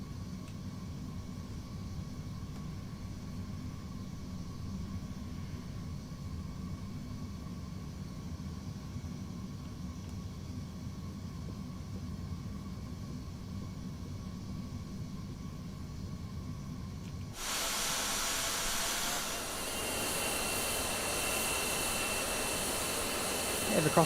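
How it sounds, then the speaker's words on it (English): An Airbus A321 on approach to land in Microsoft Flight Simulator, a steady low jet-engine rumble and airflow hum that gives way to a louder, broader rushing roar near the end. "we'll just bring the aircraft into land."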